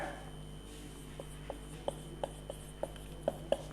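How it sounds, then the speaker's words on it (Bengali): Chalk or marker tapping and scratching on a classroom board during an English lesson, a run of short, faint, regular strokes over quiet room hum. "আমি ইনস্ট্রাকশনের বাইরে লিখছি"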